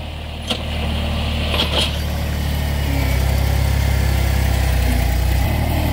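Heavy machinery engine, likely an excavator or loader digging and moving dirt for a backyard pool, runs steadily close by, its low rumble swelling and rising in revs partway through, with a couple of faint clanks early on.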